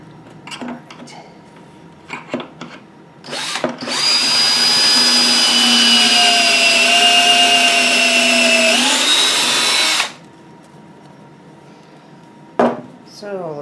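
Power drill driving a pocket hole screw into reclaimed door wood, a single steady whirring run of about six seconds that pitches down as the screw seats, with light handling knocks before and after.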